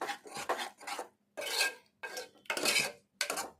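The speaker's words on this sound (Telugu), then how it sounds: "దీన్ని ఇలా కలుపుకోవాలి మెత్తగా" Cooked lentils stirred and mashed in a pot, heard as bursts of wet scraping and rubbing strokes separated by short pauses, close and moderately loud, with no talking.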